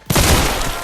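A burst of gunfire from a gun in the Blade & Sorcery virtual reality game, a loud, abrupt blast with a rumbling low tail that decays over under a second, heard alone without speech.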